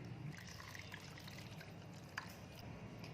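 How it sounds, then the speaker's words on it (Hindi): Liquid whey from milk curdled for homemade cream cheese trickles and pours through a kitchen strainer, a soft steady dribbling that runs quietly throughout with no talk. "अब स्ट्रेनर की हेल्प से इसे स्ट्रेन कर लें।"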